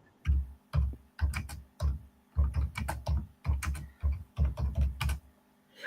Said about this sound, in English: I know I'm typing sideways